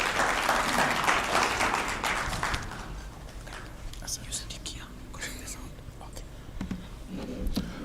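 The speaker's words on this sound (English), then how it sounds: "A clap for Desmond as he comes." Steady applause from a crowd at a race media launch fills the opening seconds, then thins into scattered claps and murmuring voices.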